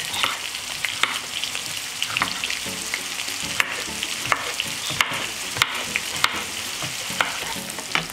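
Chopped onion frying in a pan until soft, giving a steady close sizzle broken by regular clicks and scrapes of stirring, with no voices.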